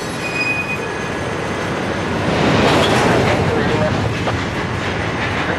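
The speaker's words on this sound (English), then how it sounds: "The train is slowing to make this drop." Florida East Coast Railway freight train 335 on the downtown job slows alongside, wheels grinding and squealing thinly over a steady rolling rumble that swells midway, with faint talk in the background.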